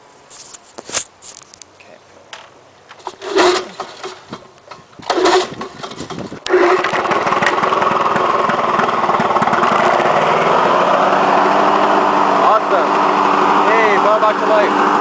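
Lawn-Boy 8243AE lawn mower engine set on choke: a few sharp pull-start tugs and sputters, then the engine catches and runs as a loud, steady close-up drone.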